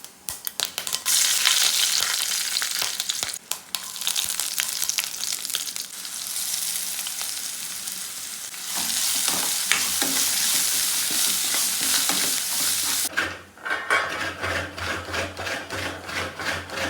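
Onion and beetroot thoran fries in a pan while a spoon stirs and scrapes it, giving a steady close sizzle broken by repeated rubbing, scraping strokes.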